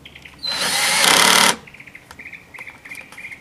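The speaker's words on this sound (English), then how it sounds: "I'll slowly drill the hole. Get a pilot hole started." A power drill boring a pilot hole in birdhouse wood, one loud whining burst of about a second, followed by quiet clicks and faint bird chirps.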